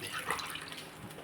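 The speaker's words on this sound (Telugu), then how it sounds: "ఇదిగోండి వాటర్, ఒక గ్లాసు నూక ఉంది కదా, 4 గ్లాసులు వేస్తాను." Water poured from a glass into a cooking pot while making masala upma, a brief soft splashing gush heard close and fairly quiet.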